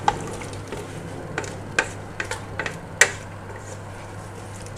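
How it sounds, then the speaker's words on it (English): Apple chutney simmering in a pan, a soft steady bubbling with scattered small pops and occasional spoon clinks against the pan, close and fairly quiet over a low hum. "let this simmer and slowly"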